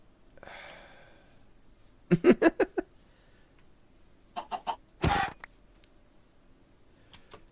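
Chickens in a video game give short bursts of clucking, one quick run of four or five clucks and then a couple of briefer flurries, moderately close over a faint background hum.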